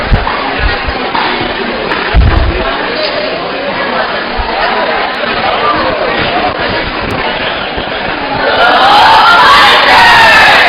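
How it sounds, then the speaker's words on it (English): A sports crowd and team shout a loud group cheer together, dense voices over the crowd's murmur, swelling louder toward the end. "Got a nice Punisher team cheer there to start off."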